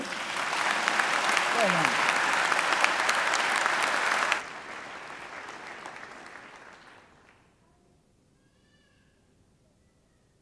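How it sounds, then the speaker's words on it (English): An audience at a Macquarie University graduation ceremony gives loud, dense applause that suddenly drops in volume and fades to silence, with a brief spoken voice. "So I think he deserves another great round of applause, don't you?"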